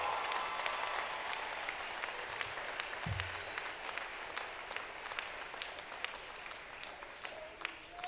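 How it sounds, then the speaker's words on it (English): An audience at a university health sciences commencement ceremony applauds steadily for the graduates, with individual claps standing out near the microphone and a brief low voice at one point. "Round of applause."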